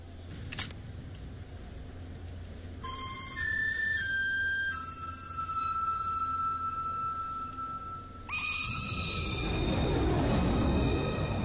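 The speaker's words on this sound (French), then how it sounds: "Le sifflet!" Sustained electronic whistle tones from the game Bioshock Infinite, with stepped pitch changes over a constant rumbling background, ending in a bright noisy burst.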